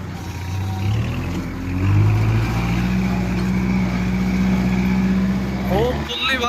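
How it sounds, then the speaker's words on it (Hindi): Tractor climbing up a bank at a wheat field, its engine rumbling and then revving harder with rising pitch as it pulls up, fairly loud and close, with someone speaking over it. "यहाँ से भाई हम चढ़ा लेंगे ट्रैक्टर को ऊपर।"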